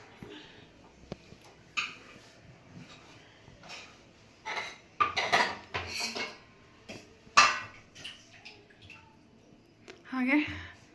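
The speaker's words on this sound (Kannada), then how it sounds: "ಮೆಣಸಿನ್ಕಾಯಿ ಕಟ್ ಮಾಡ್ತಿದ್ದಾರೆ." A knife chopping green chillies on a board for vegetable kurma, irregular taps and scrapes in short bursts, with a voice talking over parts of it.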